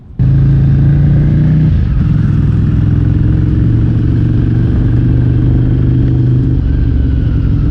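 A motorcycle on the road, ridden with a helmet-mounted action camera, gives a loud, continuous engine drone mixed with rushing wind. The drone holds steady for the whole ride, with no talking.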